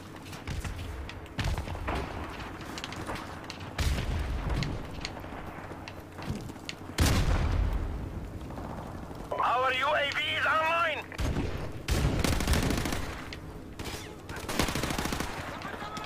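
Bursts of M4 carbine gunfire in the video game Call of Duty 4 Modern Warfare, loud, close rapid volleys separated by short pauses, with another voice speaking briefly between the shots.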